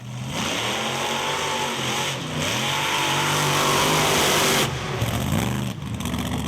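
Mud bog trucks revving their engines at a mud bog event in Morristown, a loud sustained roar with rising and falling pitch, briefly dipping before surging again.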